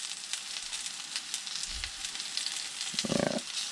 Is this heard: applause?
no